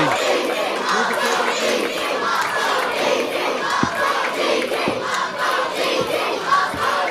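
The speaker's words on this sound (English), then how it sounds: "the crowd are chanting RPD, RPD." A wrestling crowd at an Odyssey Pro Wrestling show chants a wrestler's name, a dense, loud and steady rhythmic roar with a few low thuds, no talk over it.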